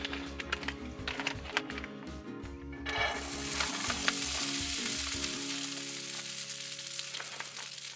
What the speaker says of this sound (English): I want to heat up my rice.